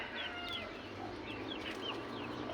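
A brooding hen on a turkey farm gives soft, short clucks at a moderate distance, several brief calls spread over a low steady background.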